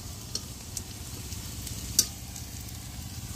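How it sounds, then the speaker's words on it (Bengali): Vegetables frying in a pan in a little fish oil, with steady close sizzling and stirring, a few sharper clicks of the utensil against the pan. "এখন একটু ভাজা ভাজা হবে, তারপর তেলটা দিয়ে দেবো।"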